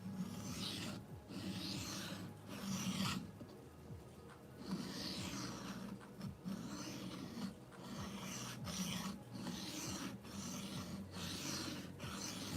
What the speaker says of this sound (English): So right now I'm on a 320 grit diamond stone. Just keeping this flat.